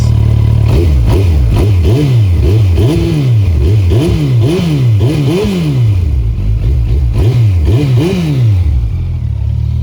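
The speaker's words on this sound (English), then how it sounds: "I'm gonna give it a quick rev for you guys" A loud Kawasaki ZX-14R sport motorcycle engine revs repeatedly in quick bursts, pitch rising and falling in a steady rhythm over a constant idle rumble, recorded close.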